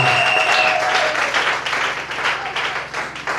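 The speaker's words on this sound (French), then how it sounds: "Est-ce qu'on peut acclamer?" A crowd at a family prayer gathering applauds loudly and continuously, a dense wash of clapping close by that slowly fades a little toward the end.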